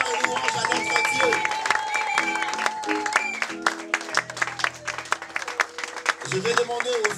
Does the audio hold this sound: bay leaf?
no